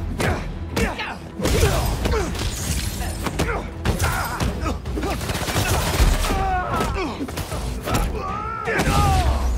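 Rapid turret gunfire and mechanical clanks in the Spider-Man 2 video game, loud and close, mixed with game sound effects and music, with brief voices in the background.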